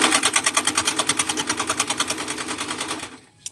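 A sewing machine stitches a cardigan side seam in a fast, even run of mechanical clatter. It is loud and close, then stops abruptly with one small click after.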